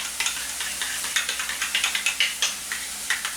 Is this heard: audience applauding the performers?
no